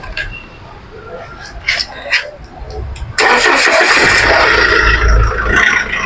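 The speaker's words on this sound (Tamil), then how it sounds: "நான் வண்டியை ஸ்டார்ட் பண்ணி காட்டுறேன்." A 2011 Mahindra Scorpio Hybrid SUV cranks and catches at about three seconds, then settles into a loud, steady diesel idle close by, after a quiet stretch with faint background knocks.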